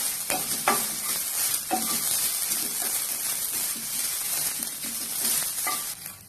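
Grated coconut roasting in a pan for kadala curry, a constant dry sizzle with repeated scraping strokes of a spoon stirring it, close and steady, with no talking.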